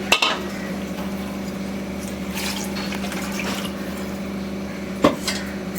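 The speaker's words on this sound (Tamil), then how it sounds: "நான் வந்து இப்போ 4 ஆளாக்கு தண்ணி ஊற்ற போகிறேன்." Water pours into a pot of measured raw rice for tomato rice in a home kitchen, a steady close trickle over a low hum, with a brief clatter of the vessel near the start and again toward the end.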